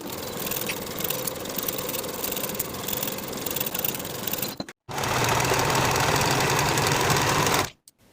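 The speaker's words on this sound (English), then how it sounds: "Sew this seam with a 1/2 inch seam allowance" A sewing machine stitches a pants seam in two continuous runs of rapid, even whirring with a brief pause between, close and loud with no talk.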